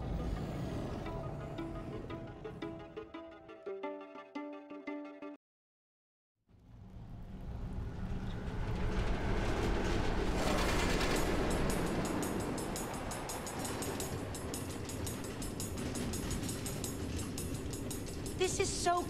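Minecart train running along automated tracks through the Nether in Minecraft Story Mode, a loud continuous rumbling clatter that cuts out briefly and returns with music-like tones over the first seconds, no voices.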